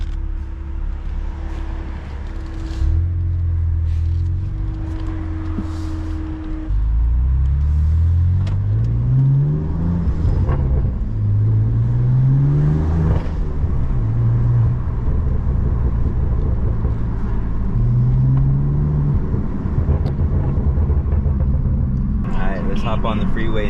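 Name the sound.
BMW M4 F82 car driving and accelerating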